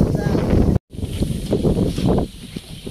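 Wind buffets a microphone outdoors during a sale of wild boar piglets, a rough broadband rumble that rises and falls over about three seconds, broken by a brief dropout, while people talk underneath.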